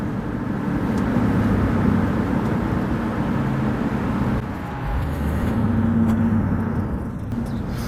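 A 2006 Honda Element with a slipping, rough-shifting transmission, heard from inside while driving: a steady low engine and road rumble continues throughout, with a slight change in tone midway. No one speaks.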